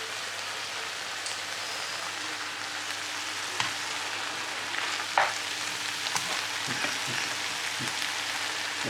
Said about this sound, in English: I'm just sauteing the vegetables.